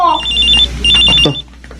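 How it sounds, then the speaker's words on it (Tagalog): A cellphone rings with a loud, close electronic trilling tone in two bursts, the second cut short, over a low steady hum. "May nagre-ring na cellphone."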